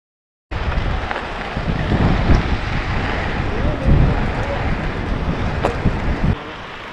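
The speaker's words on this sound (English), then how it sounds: "And it's windy out today" Steady, loud wind buffeting the microphone during a ride on a Specialized Turbo Levo electric mountain bike, a continuous broadband rush with gusty swells throughout, no other distinct sounds standing out.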